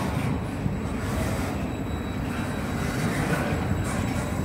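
A short Norfolk Southern container freight train rolling past and slowing to a stop, a dense steady rumble of wheels and cars with a faint high metallic whine, loud and close, no talk.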